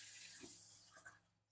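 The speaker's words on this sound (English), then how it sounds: "Add more water." Water poured into a cooking pot of rice on a stove, a brief hissing splash with faint trickling that tapers off, close by and with no one speaking.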